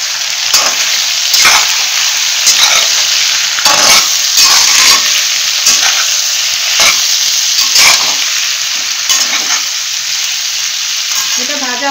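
Pineapple pieces and chicken fry in a pan, hissing loudly and continuously close up, broken by repeated sharp scrapes and clacks as the mixture is stirred; no voices.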